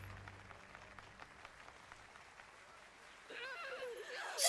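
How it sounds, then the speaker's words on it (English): A crowd in an anime episode claps softly under quiet background audio, the faint patter fading before a voice cuts in near the end. "And now they're all clapping."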